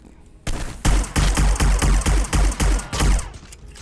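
Sustained gunfire in the Hitman video game, a loud burst of rapid repeated shots that keeps going for about three seconds, with no speech over it.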